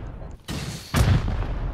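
Two loud, sharp blasts about half a second apart from a rocket launcher in Rust Console, each trailing into a rumbling roar.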